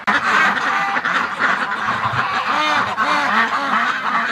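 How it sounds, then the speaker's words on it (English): Muscovy ducks quack repeatedly in short, nasal bursts close by, several calls overlapping over a noisy background. "The little Muscovies came back."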